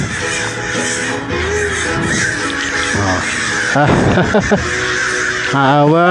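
Crows caw repeatedly, harsh calls close by and overlapping, while people talk over them.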